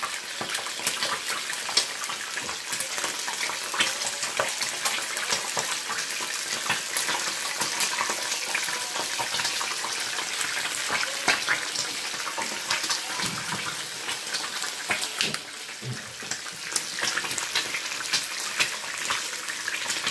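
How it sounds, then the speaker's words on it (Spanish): Burger frying in a pan, a steady, dense crackle and sizzle of hot oil that carries on without pause, close and even. "lo ponemos a freír"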